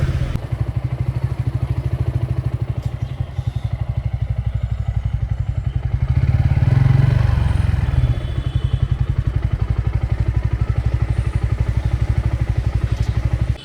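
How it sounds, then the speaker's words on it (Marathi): A motorcycle engine idles nearby while being parked, a rapid, steady thumping putter, briefly swelling louder in the middle before settling back to idle. "मी पहिलं बाईक पार्क करणार आहे."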